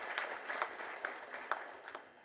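Crowd clapping at a memorial celebration, a soft continuous patter of many hands with a few sharper claps poking through, fairly distant and even throughout.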